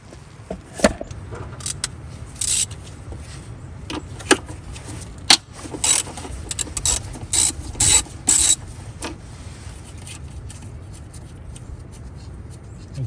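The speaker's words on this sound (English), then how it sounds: "I'm gonna take those 4 bolts that holds it in" Ratchet loosening the throttle body bolts on a Toyota Tundra, close bursts of quick clicking separated by pauses over a low hum, with no talk.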